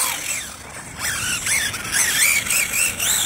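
A 1/18 scale 4WD LaTrax Teton RC car driving: a loud high-pitched electric motor whine rises and falls continuously as it speeds up and slows, heard close with no talk.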